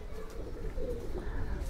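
Ferozpuri mix breed pigeons coo nearby in low, throaty warbling calls, a soft continuous murmur with overlapping bird sounds in an indoor loft setting.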